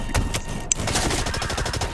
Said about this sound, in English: I told you she was shooting guns.